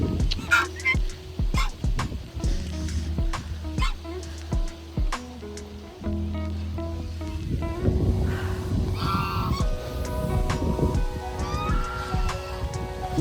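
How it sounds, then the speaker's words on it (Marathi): Birds at a dam beside a resort honk and call repeatedly, clear and fairly close, in bursts that grow into a denser overlapping chorus, with background noise and no speech. "हे बघा पक्षी"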